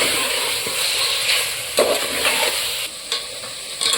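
Ground green chillies, ginger and garlic sautéing in a pan for chicken pulao, with a steady close sizzle and occasional scraping stirs, no talking.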